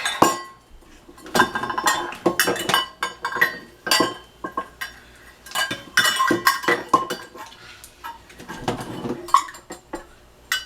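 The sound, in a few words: scraping ingredient out of a measuring cup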